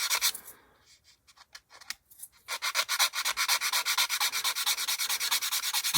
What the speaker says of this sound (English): I'm just letting the sander do the work.